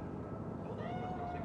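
A cat meows in the video game Cyberpunk 2077, a single drawn-out cry over a steady background hum, with voices faintly present.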